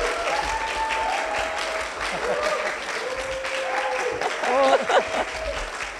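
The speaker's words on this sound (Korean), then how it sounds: "박수 부탁드리겠습니다" An audience at a Seoul fashion knowledge conference applauds to welcome a master patternmaker to the stage, sustained clapping with voices and cheers mixed in, swelling near the end.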